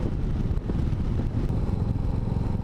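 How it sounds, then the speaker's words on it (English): A steady low Royal Enfield Classic 350 engine hum and rumble from engine braking in top gear drones throughout, even and unbroken, with wind-like noise and no voices. "The engine braking is really loud."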